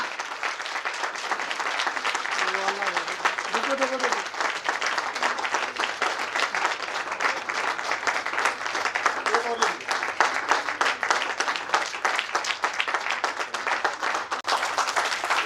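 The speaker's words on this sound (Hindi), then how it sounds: "डायमंड बनने के लिए इतनी तालियां" Sustained audience clapping fills a seminar hall in Delhi, dense and even for the whole stretch, with a voice briefly audible under the applause.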